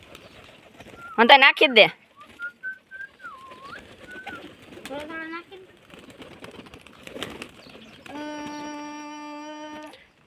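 Pigeons on a rooftop gathering to eat scattered rice, with fluttering wing bursts, soft cooing and bird calls close by, while a person speaks briefly nearby and a whistle-like tone sounds near the end.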